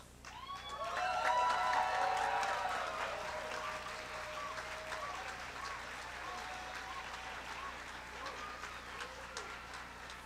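Graduates and guests at a college commencement ceremony break into sustained applause with cheering and whistles, swelling near the start then settling into steady clapping across the hall.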